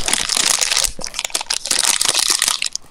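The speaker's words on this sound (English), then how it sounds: "He's just biting." Loud, close crunching and crackling bursts, like someone biting into and chewing crisp food, continuing steadily for a few seconds without speech.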